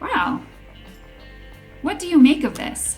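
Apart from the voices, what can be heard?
dog vocalizing while eating peanut butter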